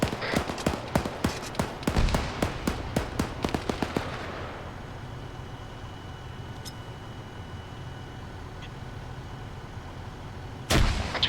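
In a military shooter game, a rapid string of sharp gunshots crackles for several seconds, followed by a rumbling grenade blast and a lingering low roar, with another loud crack right at the end.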